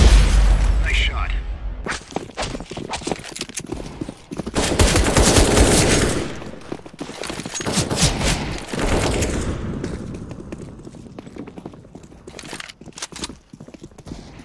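Rapid gunfire bursts from the video game Counter-Strike on the Mirage map, loud rattling volleys with whooshing effects and scattered footstep-like clatter between them.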